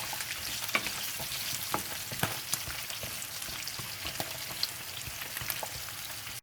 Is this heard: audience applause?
no